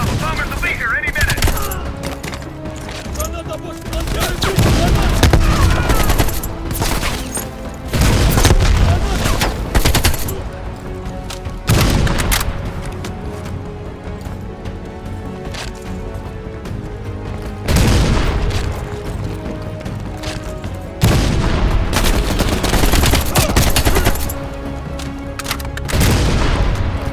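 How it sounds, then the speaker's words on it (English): Bombing strike explosions in the Call of Duty Black Ops Cold War campaign: repeated loud booms and crashing blasts at intervals amid constant rattling gunfire and scattered voices. "Bombing strike imminent."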